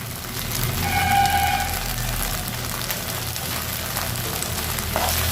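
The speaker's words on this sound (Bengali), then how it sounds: "মশলাটাকে মিডিয়াম ফ্লেমে কষিয়ে নিব" Spice masala of ground coriander, cumin and chili cooks on medium flame in a pan, giving a steady close-up frying sizzle with faint crackles throughout and no voices.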